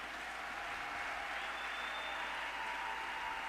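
A congregation at a church service applauds steadily for several seconds, a dense, even wash of clapping heard from within the hall, with no voices rising above it.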